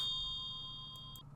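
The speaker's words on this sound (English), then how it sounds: "he was awakened by the ringing of the front doorbell" A front doorbell rings with a bright ding and a sustained tone that fades out slowly, then two short, softer chimes sound near the end. The ring is moderately loud and close, with no voices over it.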